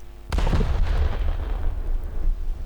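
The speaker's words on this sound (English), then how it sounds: "they've changed the sound for the 14-inch guns" A 14-inch naval gun salvo fires in War Thunder: one sharp, loud blast followed by a long rumbling roll that fades slowly, with no voices.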